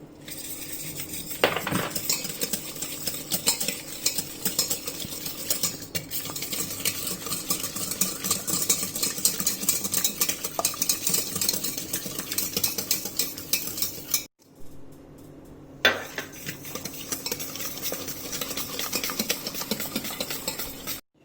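A whisk beats eggs and sugar in a bowl for a cake, with steady rapid scraping and clinking against the bowl throughout, briefly pausing once before the stirring continues.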